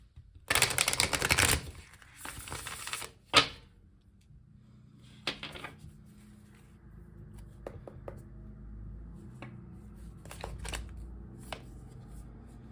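Tarot cards shuffled by hand, with a dense riffling burst near the start, a sharp snap, then scattered soft taps and card flicks against a quiet room.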